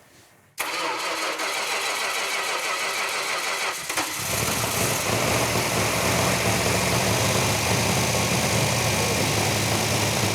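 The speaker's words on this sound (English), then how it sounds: "firing up that engine for the first time on the run stand" A rebuilt car engine on a run stand cranks briefly, then catches and fires up, settling into a loud, steady mid-pitched idle that runs close and alone for several seconds.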